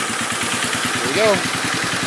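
A Cub engine runs just after a cold start with choke, producing a steady, close, low rhythmic chugging idle and a brief faint whine partway through.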